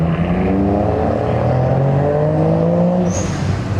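A Supra at a car show pulls hard, its engine rising in a loud, continuous acceleration note that climbs steadily for several seconds before easing off, heard close with no talk.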